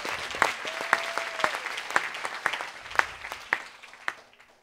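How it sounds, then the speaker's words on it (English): A church congregation at an evening sermon claps for Jesus, a fairly sparse, uneven round of applause with individual claps standing out and fading toward the end. "Can we clap for Jesus if you feel it?"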